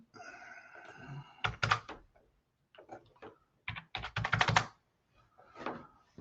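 Someone types figures on a computer keyboard: close, crisp bursts of rapid key clicks separated by short pauses, with no talking.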